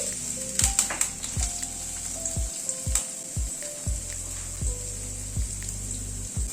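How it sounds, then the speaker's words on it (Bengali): Carrots fry in hot oil in a pan while being stirred, a steady bright sizzle running throughout, broken by repeated low knocks and scrapes of the spoon against the pan at irregular intervals. "তেলটা গরম হওয়ার পর প্রথমে গাজরটাকে দিয়ে দিচ্ছি"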